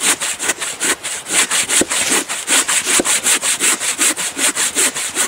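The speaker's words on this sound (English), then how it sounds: "Go with the rhythm of the saw" Close, loud rasping strokes of a hand saw biting into hardwood rather than soft pine, repeating in an even, quick back-and-forth rhythm.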